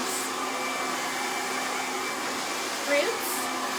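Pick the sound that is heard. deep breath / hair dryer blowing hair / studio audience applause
hair dryer blowing hair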